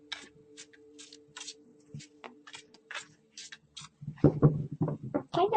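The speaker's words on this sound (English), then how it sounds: "Kind of difficult to shuffle," Tarot cards are shuffled by hand in a series of quick papery riffles and slaps, evenly spaced at first, then denser and louder near the end, over a faint steady hum.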